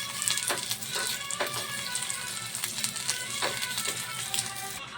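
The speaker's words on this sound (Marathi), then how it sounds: "ड्रायफ्रूट थोडं भाजून घेऊया आपण" Dry fruits are roasted in a pan, clicking and rattling as they are stirred, with a steady background sizzle and irregular sharp taps of nuts shifting against the metal, close and continuous.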